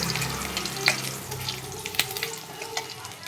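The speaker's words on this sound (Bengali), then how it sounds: "এবার ওই তেলেতেই আমি দিয়ে দেবো কয়েক কোয়া রসুন। রসুনটাকে হালকা করে লাল করব।" A few garlic cloves frying in oil over low gas, a close crackling sizzle with sharp ticks and pops scattered throughout, fading slightly toward the end.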